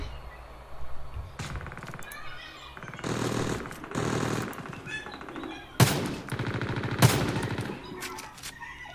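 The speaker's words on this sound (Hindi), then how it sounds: "एक शॉट तो उसको लग ही गया।" Gunfire in the BR Warfare battle royale video game, with bursts of rapid shots and a few sharp single cracks across the clip over a steady game background, loud and close.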